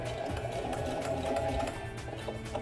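A sewing machine stitches a seam with a steady, rapid mechanical whir and rhythmic needle chatter, close and continuous for the whole short stretch.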